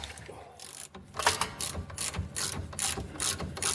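Ratchet wrench backing off rusty suspension bolts on a VW Golf Mk5 during a front spring replacement, repeated close clicking ratchet strokes in quick bursts, with no talking.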